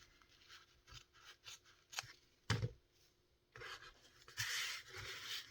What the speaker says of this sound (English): Let's just do 1/4 of an inch off this side. Try to cut a straight line.